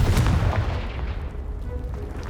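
A Confringo blasting spell explodes against a pile of debris in the Hogwarts Legacy video game, a loud close boom with a rumbling burst that decays into a low tail.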